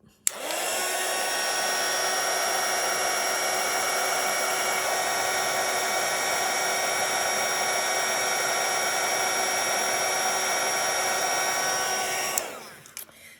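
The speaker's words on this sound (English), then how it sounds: "let's give that a quick zap with the hairdryer" A hair dryer blows continuously at close range with a steady whining roar for about twelve seconds, drying watercolor paint, then switches off.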